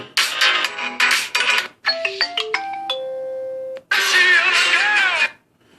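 A ringtone melody plays through the loudspeakers of a Nexus 6P smartphone, with bright chiming notes, a run of stepped tones and a sustained note, ending in a rich chord flourish, loud and close with no talk.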